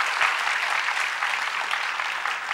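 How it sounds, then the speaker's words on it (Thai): A television talk-show studio audience applauds in a steady, dense wash of clapping that holds at an even level throughout, with no voices over it. "ขอเสียงปรบมือให้กับคุณเสถียรเกณฑ์กุดรังครับ"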